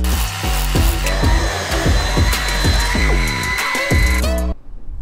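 A Dyson vacuum cleaner running loud and close, a steady whining motor roar with rhythmic pulsing as it is pushed back and forth, cutting off abruptly near the end.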